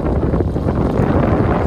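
Steady wind gusts across flat, treeless, arid Australian outback in midday heat, a loud continuous low rumble buffeting the microphone with no voices.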